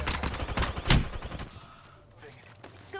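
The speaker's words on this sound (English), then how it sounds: "Listen up, I'm getting shot at." Rapid gunfire from a firefight in the battle royale shooter Apex Legends comes as close, quick bursts of shots with one sharp loud crack. After that it drops off into quieter, more distant shots and game ambience.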